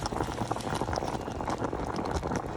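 A covered pot of kenkey boils steadily on the stove, giving a continuous close bubbling and rumbling with a dense, even texture throughout.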